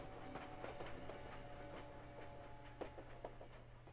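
A train rolls through the Paris train depot in the video game Valiant Hearts, a steady low rumble with faint clicking wheel beats and a few sharper clanks over a constant drone.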